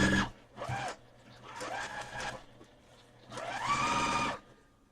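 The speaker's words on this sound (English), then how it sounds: "And then we'll just start sewing them." A domestic sewing machine stitches quilt pieces in short, close bursts of rapid mechanical whirring, several separate runs with brief pauses between them and a longer final burst.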